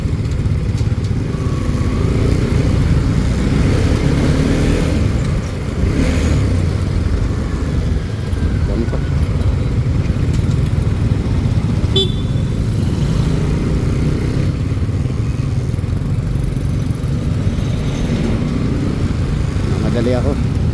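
Tricycle motorcycle taxis on a roadside in Bontoc, their engines droning steadily and loudly throughout, with passing vehicle noise blending into a continuous traffic rumble under people talking.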